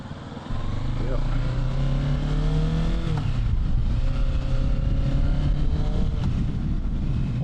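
Kawasaki Ninja 650 motorcycle engine droning steadily while being ridden, loud and continuous with rising and falling revs and wind rumble throughout.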